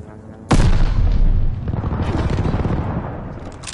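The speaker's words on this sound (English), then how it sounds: "Allies called an airstrike." Airstrike explosions in a Call of Duty esports match: a sudden loud blast lands with a deep booming roar, then a long rumbling tail of further detonations and debris fades slowly behind it.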